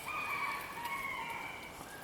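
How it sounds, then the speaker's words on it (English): Backyard chickens calling faintly in the background outdoors beside a folding wood stove, their drawn-out tonal cries steady over a soft hiss of ambient noise, with no talking. "can hear my chickens in the background"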